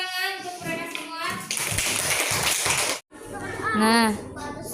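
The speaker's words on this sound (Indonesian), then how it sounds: "Oke, kita tepuk tangan untuk mereka semua." Children in a classroom clap together in a burst of dense applause lasting over a second, with kids' voices and an adult speaking before and after.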